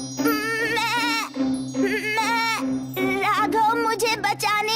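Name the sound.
goat bleating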